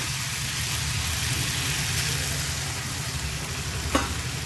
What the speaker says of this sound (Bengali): দিয়ে ভালো করে কষিয়ে নেব যাতে আলুটা সেদ্ধ হয়ে যায়।